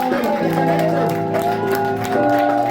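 Worship congregation in a church claps and cheers loudly and continuously, with a strong harmonic voice or music layer running throughout.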